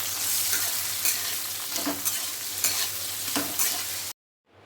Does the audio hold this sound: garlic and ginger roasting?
yes